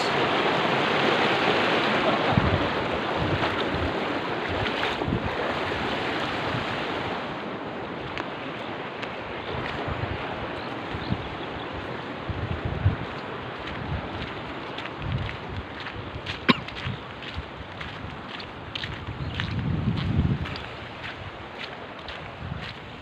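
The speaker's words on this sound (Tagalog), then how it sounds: "Ayo, lakas ng agos." Strong water current rushing through an abandoned quarry in Porac, Pampanga, a steady broad roar of flowing water with wind buffeting the microphone and occasional low thumps.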